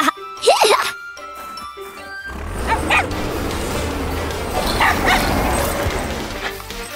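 A cartoon dog yips and barks in quick, high bursts near the start, with jingling tones, a whimper and ongoing cartoon sound effects and voices around it.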